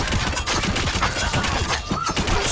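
Small critical-hit explosions pop in quick, dense succession during video game combat, a steady crackling barrage of little blasts with no voice over it.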